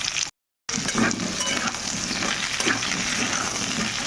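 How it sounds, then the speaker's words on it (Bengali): Potato and pointed gourd pieces fry in a pan with a loud continuous sizzle and crackle close by, with occasional stirring scrapes and a brief cut near the start. "আলু আর পটলটা একটু বেশ ভালো করে ভাজবো"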